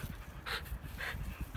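A dog pants in two short, breathy bursts over a low rumble of background noise, outdoors in a mountain gorge in Kabardino-Balkaria.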